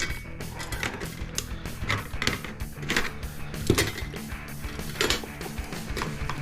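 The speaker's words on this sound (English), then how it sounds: "So that means we gotta take these screws off, or these nuts off." Nuts are worked off a Cisco networking device during an e-waste teardown, with close metallic ticks, scrapes and tool clicks in an irregular rhythm and a faint mechanical hum underneath.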